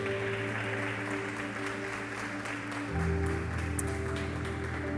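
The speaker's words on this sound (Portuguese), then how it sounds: "Você pode aplaudir a presença do Senhor?" A church congregation claps steadily during a worship service, a dense crackling applause that swells slightly after a few seconds, with sustained keyboard or organ tones held underneath throughout.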